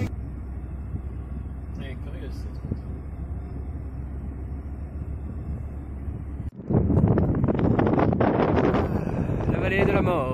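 Wind blows steadily across a microphone in Death Valley in 45-degree heat, a constant rumble that grows louder and rougher partway through, with traffic-like noise.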